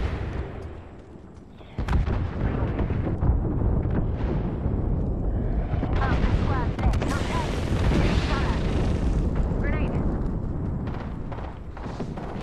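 Airstrike explosions in Apex Legends: after a short quieter lead-in, a sustained, loud rumbling barrage of blasts with crackling bursts rolls on for about ten seconds before easing slightly.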